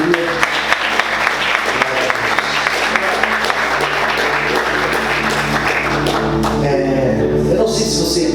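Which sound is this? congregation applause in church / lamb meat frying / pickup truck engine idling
congregation applause in church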